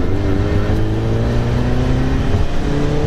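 Porsche engine pulling hard in second gear, a loud steady close drone with rising harmonic tones as it accelerates, no talking.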